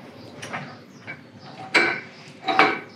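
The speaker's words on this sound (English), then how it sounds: "We'll extend the top link out." A top link on a tractor's three-point hitch is extended while hooking up a Ground Hog arena tool, giving a few soft mechanical clunks and knocks, with two louder metallic strikes near the end and no talking.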